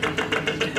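A man vocally imitates an airplane engine aboard a flight in a comedy sketch, producing a rhythmic, pulsing drone that repeats about four times within the short snippet, close and fairly loud.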